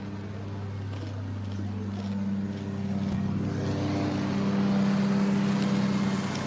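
A lawn mower drones steadily in the background, its hum rising slightly and growing a bit louder over several seconds.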